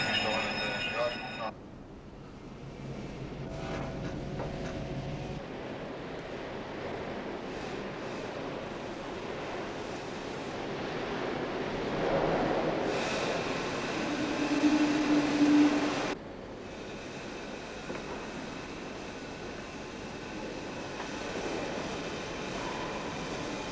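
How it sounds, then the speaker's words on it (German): A twin steam winding engine in a coal mine raises the hoist cage, a steady low rumbling drone with hissing, swelling slightly in the middle before settling again. "Der östliche Förderkorb fährt nun zur 710-Meter-Sohle auf."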